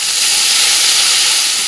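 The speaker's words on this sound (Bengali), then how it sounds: "গাজরটার সবজিগুলো যা যা দিয়েছিলাম ওগুলো ভাজা ভাজা হয়ে গেছে।" Carrots, onions, green chillies and other vegetables sizzle steadily in a pan while being fried for chow mein, a continuous close hiss with no pauses and no voices.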